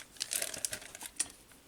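A plastic bag holding parts from a Tamiya Wild One kit crinkles briefly, a quiet, close, irregular rustle lasting under two seconds with no talking.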